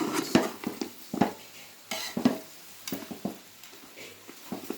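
A spoon stirs country chicken curry in a metal pot, scraping and clinking in repeated strokes about every second, with soft sizzling beneath; no talking.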